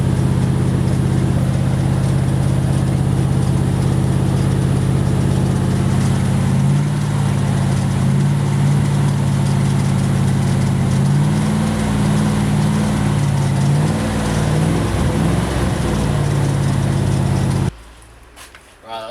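A rotten Triumph Stag V8 idles with a steady, loud low rumble, its engine note rising and wavering slightly through the middle under a couple of revs before cutting off abruptly near the end.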